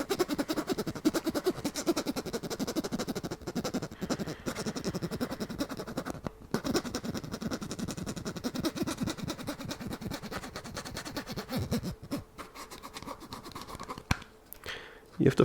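Dense, rapid scratching on a ridged plastic hologram bookmark, held close and steady for most of the stretch, briefly dropping out near the end; no talking.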